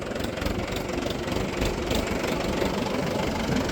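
A farm tractor's engine runs steadily nearby while it hauls a water tank and blower for watering newly planted mango saplings, a constant rough rumble with no talking.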